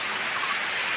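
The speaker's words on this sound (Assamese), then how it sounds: "বৰষুণ যে বহুত ডাঙৰ, দেখিছেনে টোপালবিলাক কিমান ডাঙৰ ডাঙৰ টোপাল চাওক এইবোৰ" Heavy outdoor rain with large drops pours down in a dense, steady hiss, loud and continuous with no voices over it.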